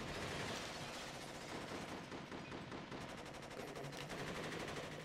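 Rapid automatic gunfire in the action video game Rise to Honor, a loud continuous stream of shots and blasts filling the whole stretch without pause, with no voices over it.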